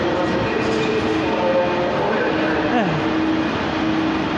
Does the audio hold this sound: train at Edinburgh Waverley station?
yes